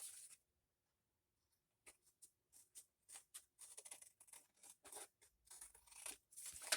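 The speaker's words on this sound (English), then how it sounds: "we're going to turn this over and trim this off." Scissors trimming paper for a handmade journal card, with a quiet pause followed by a run of short, close, crisp snips in an uneven rhythm.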